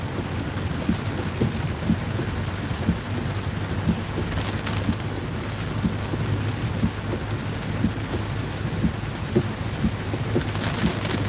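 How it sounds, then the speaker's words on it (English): Steady rain falls during a thunderstorm in the Lickey Hills, North Worcestershire, a constant hiss with scattered drop patter and a low rumbling bed throughout, no voices. "Nice to see the sun shining at the same time as the storm."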